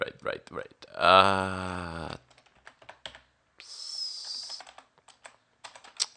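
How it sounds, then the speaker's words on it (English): Computer keyboard keys clicking as a command is typed into a terminal, in short bursts of close taps mixed with someone speaking and a brief noisy swish. "type in airmon-ng and type in the name of the newly created interface and press enter"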